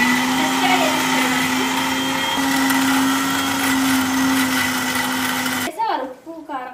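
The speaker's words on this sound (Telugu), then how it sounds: "అసలు ఎంత బాగా మిక్సీ చేస్తుంది అంటే 1 minute లో" Butterfly mixer grinder whirring at high speed, a loud steady motor whine for most of the clip that cuts off abruptly near the end, followed by brief speech.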